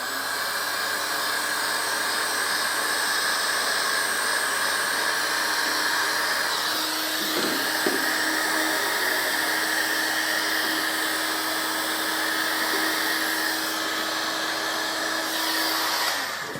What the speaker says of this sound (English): I'm just going to heat this heat shrink onto this.